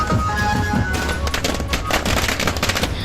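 Rapid crackling bursts of fireworks at a political victory celebration in a village, dense and continuous like a string of firecrackers, loud and close with no gaps.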